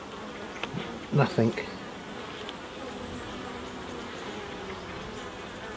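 Honey bees buzzing inside a hive in June, a steady close hum throughout with a short, louder buzz from a bee passing near.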